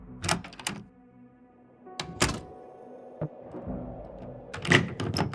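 A door in the video game Frequency Missing opens in a lounge, with several sharp clunks and mechanical thuds spread over a few seconds against a faint ambient hum, clear and close.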